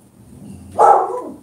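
Dogs bark in a short burst near the end, a loud close yelp-like bark rising over low household background rumble, with no talking during it.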